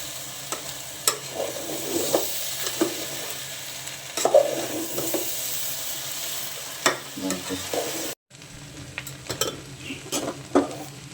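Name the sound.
stirring rice in pot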